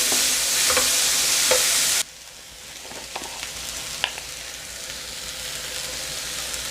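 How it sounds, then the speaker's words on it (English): Tomatoes, onions and sweet peppers fry in a pot for Bahamian fire engine with corned beef, a loud steady sizzle for two seconds that drops to a quieter crackle with occasional stirring clicks. "Now we're going to add our tomatoes, our onions, and our sweet peppers so that they can fry out."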